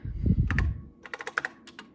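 Keys clacking on a vintage home computer keyboard under test, a sharp run of separate close keystrokes in uneven rhythm following a brief low rumble of handling.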